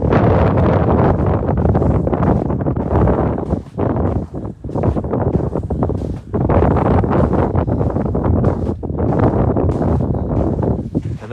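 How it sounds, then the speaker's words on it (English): A long, sustained gust of wind buffets the microphone during a winter snow report, a loud, roaring rush that dips briefly a couple of times before surging again. "And that was a pretty long and sustained gust"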